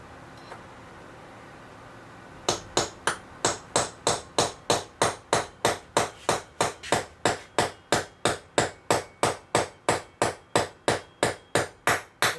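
Small hammer striking a pin into an AR-15 upper receiver, a quiet start followed by a long, steady series of sharp, evenly spaced metallic taps, close and loud.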